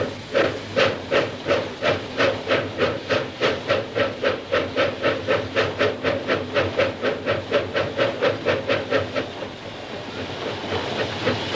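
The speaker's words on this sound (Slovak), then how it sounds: "Lokomotíva si potrebuje odpočinúť, napojiť sa kryštáľovou vodou z horskej bystriny." A steam locomotive on the Čierny Balog forest railway puffs in a fast, even rhythm of loud hisses, then the pulses stop and a continuous steam hiss carries on as it stands.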